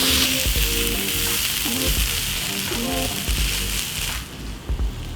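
Loud, steady sizzling rises from vegetables frying in a hot pan as spring onion is tossed through them, with a few stirring scrapes. A voice briefly talks over the frying.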